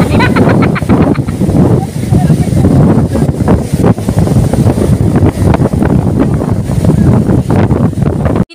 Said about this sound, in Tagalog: Umuulan, mga bi, pero napakalakas naman talaga ng hangin na talo ng dagat.